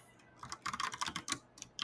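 Rapid typing on a computer keyboard, a quick run of close, crisp key clicks in bursts with short pauses, no talking.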